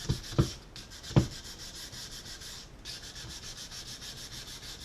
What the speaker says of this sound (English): I'm getting a little closer here on sanding this side here